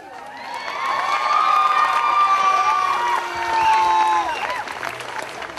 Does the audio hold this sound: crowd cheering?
yes